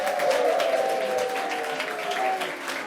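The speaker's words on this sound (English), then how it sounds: "Please give a big round of applause" An audience applauds at a dance awards ceremony, a dense and steady wash of clapping that holds for about three seconds, with a faint sustained tone running underneath.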